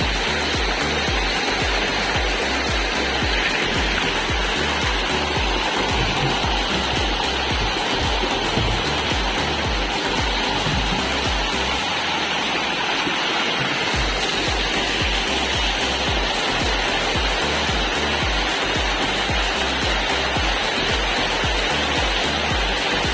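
Water flows abundantly on a small island, making a constant rushing, splashing wash that holds steady and unbroken throughout.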